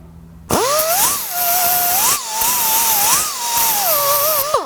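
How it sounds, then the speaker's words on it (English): Roll-lock disc on a die grinder smoothing a burr on a GMT400 truck brake caliper mating surface, a loud high whine rising and dipping in pitch as the disc bites for several seconds. "I'm just going to smooth that out with that same roll-lock disc that I used to modify the brake pads"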